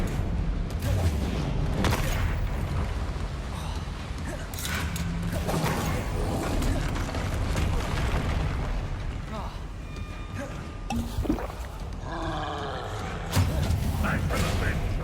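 Booming blasts and bursts from a fiery Confringo spell in the Hogwarts Legacy game, loud and heavy, striking several times over a busy stretch of combat with a voice calling out spells.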